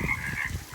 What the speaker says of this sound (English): the frogs are really going crazy